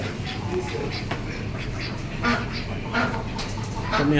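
Peking ducks at a poultry market in Doha, Qatar, quack repeatedly in loud, close bursts, with market chatter in the background.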